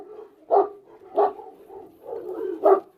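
A wary dog named Césur, living among many dogs in a snowy setting, gives three short, close barks spaced about a second apart, with soft whimpering and breathy noise in between.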